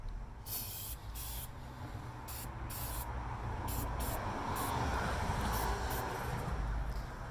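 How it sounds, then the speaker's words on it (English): Brake cleaner sprays onto an AP Racing brake caliper in repeated hissing bursts, several short blasts followed by a longer steady spray, close and crisp with no talk. "spray some brake cleaner on here"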